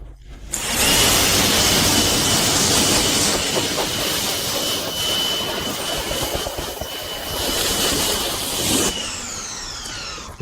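An ACTIVE 2.0 pressure washer runs steadily with its trigger gun held open, a loud, continuous high-pressure hiss and motor drone lasting several seconds before cutting off abruptly near the end.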